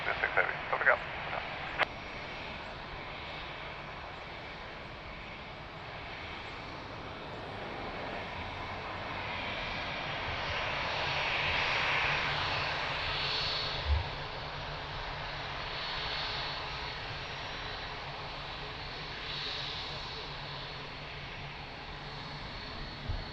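An airliner lands on runway 02 at Lisbon Airport with a distant, moderate engine rumble that swells gently toward the middle and fades, under faint radio voices.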